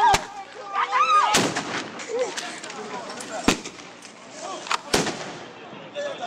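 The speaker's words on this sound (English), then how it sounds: "The sound bomb." Sound bomb blasts at a street demonstration, several sharp loud bangs spaced over a few seconds amid crowd noise and shouting voices.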